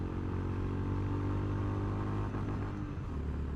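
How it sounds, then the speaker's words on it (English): Honda GB350S motorcycle engine running hard near its rev limiter, a steady loud rumbling drone with a slight stutter toward the end, heard close and alone. "That'll be the rev limiter."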